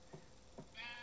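Short sheep bleats from a farm in a survival video game, two brief calls followed by a higher, longer sustained bleat, faint and with no talk over them.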